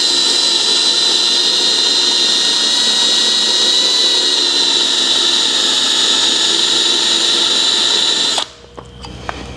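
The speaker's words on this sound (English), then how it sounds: "maybe go a little bit slower with the drill" A power drill whines loudly and steadily at a high pitch for several seconds, close by, drilling into a broken bolt, then stops abruptly, leaving faint clicks and quiet.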